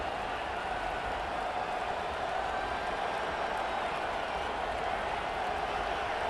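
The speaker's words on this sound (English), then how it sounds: "This crowd bringing the energy and noise early" Large football stadium crowd at a Tennessee vs Kentucky rivalry game, a steady, distant roar of massed voices that holds at an even level throughout with no distinct peaks.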